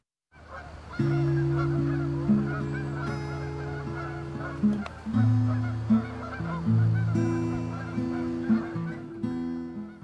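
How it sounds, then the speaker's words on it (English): Canada geese honk repeatedly and loudly, a close flock of overlapping nasal calls in irregular bursts with no talking. "these Canadian geese will be closer to the beginning of their long journey to warmer temperatures in the south"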